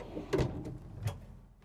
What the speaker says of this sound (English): Three nice size drawers.